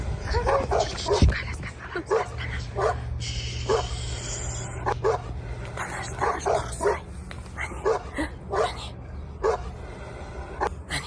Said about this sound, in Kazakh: Иттер жүріп кетті